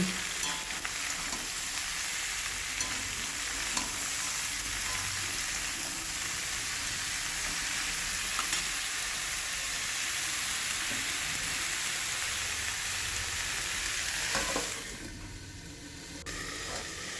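Mixed vegetables, potato and carrot among them, frying in a pan with a continuous close hiss and sizzle and occasional stirring scrapes throughout, going quieter near the end.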